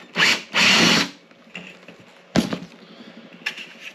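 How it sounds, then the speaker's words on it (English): A power drill whines in two loud bursts near the start while drilling a hole in a truck camper roof, followed by quieter handling clatter and a brief sharp buzz later. "I'm going to drill a hole to give myself a little bit of room"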